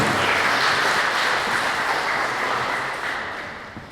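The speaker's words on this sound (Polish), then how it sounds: "Wielkie brawa i zapraszamy przedstawicieli na scenę" Sustained applause from an audience at a gala honoring a youth fire brigade team at a municipal safety day event, steady and dense clapping that slowly fades toward the end.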